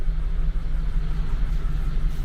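Warmed-up ZAZ Tavria small car engine idling at about 80 degrees, a low steady rumbling idle heard up close with no talk.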